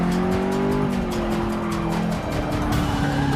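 Subaru STI race car in Forza Motorsport 6 cornering hard, with a loud, steady engine drone and tires squealing and skidding throughout, close and continuous with no talk.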